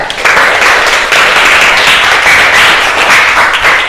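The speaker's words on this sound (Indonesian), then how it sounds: "Tepuk tangan dulu buat Yuda" Students in a teacher-training classroom clap for a classmate named Yuda, a steady, dense patter of hands filling the room for about four seconds without a break.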